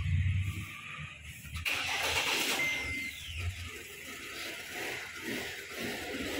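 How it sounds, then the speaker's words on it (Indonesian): A Wuling Almaz car engine runs in a workshop with the throttle propped to hold about 2000 rpm, a steady mid-pitched hum following a brief mechanical clatter, fairly faint and close. "tinggal bisa diganjal gasnya agar bisa didapat 2000 rpm"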